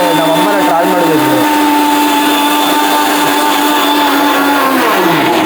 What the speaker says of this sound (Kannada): ನಾನು ಮಾತಾಡ್ತಾಯಿದ್ದೀನಿ, ಬೇಕಂತ ಮಿಕ್ಸಿ ಆನ್ ಮಾಡೋರು